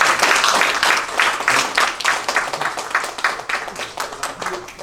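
Steady applause from a church presbytery audience at a preacher's licensing ceremony, many hands clapping close and loud, gradually easing off in strength while staying continuous to the end.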